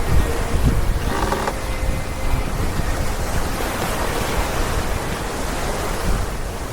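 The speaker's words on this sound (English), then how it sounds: "As we watch the wind build here," Strong wind roars across a racing yacht on Monterey Bay, blowing at 22 to 26 knots and building. It makes a loud, continuous rushing wash with a hiss of water and spray beneath it.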